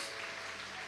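Dense applause fills a church service as the congregation claps for the Lord, a steady unbroken wash of many hands with no pauses.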